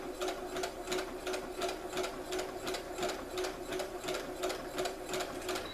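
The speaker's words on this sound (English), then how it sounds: "it's perfectly okay to zigzag this edge right here" A sewing machine zigzag-stitches along a fabric seam edge to finish it, a rapid steady mechanical chatter with regular pulsing beats running continuously at close range.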